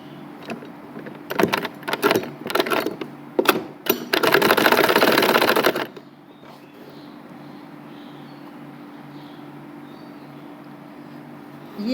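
Sewing machine stitching a drawstring casing into a women's undergarment, running in short bursts for the first few seconds, then a steady loud run of about two seconds before stopping into quiet room hum.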